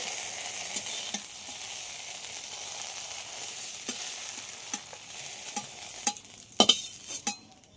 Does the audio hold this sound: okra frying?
yes